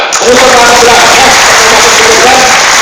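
Audience applause during a motivational talk, a loud, continuous wash of clapping filling the room, close and sustained with tonal voices faintly underneath.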